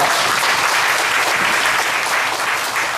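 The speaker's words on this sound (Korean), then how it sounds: "하나님께 영광의 박수 올려드립니다" Church congregation applause during a Sunday school teachers' dedication service, a loud, continuous roar of many hands clapping with no pause across the whole stretch.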